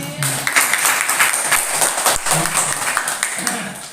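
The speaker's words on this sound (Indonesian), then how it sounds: "Tepuk tangan itu." Clapping from a small group at an Indonesian teachers' workshop session, a steady dense patter of hands lasting several seconds, fairly close, with some voices mixed in.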